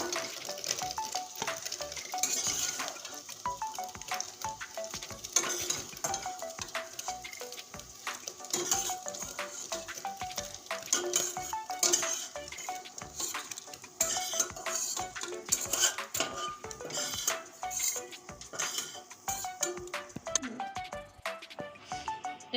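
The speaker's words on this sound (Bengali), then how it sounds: "এখানেও আমি পনির লাল করে ভেজে নিয়েছি এখন আমি তুলে নিচ্ছি" Fried paneer is lifted out of a kadhai of hot oil, with continuous sizzling, frequent clinks and scrapes of a metal spoon against the pan, close up and without speech.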